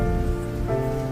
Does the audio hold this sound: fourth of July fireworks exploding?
no